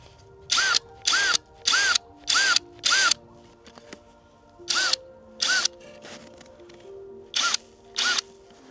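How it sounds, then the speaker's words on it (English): A cordless screwdriver drives screws into a hot tent in a snowy backyard at -20°C, a series of short, loud whirring bursts in quick groups with brief pauses between, close up and without talk. "it's very easy to do with screwdriver, the proper one."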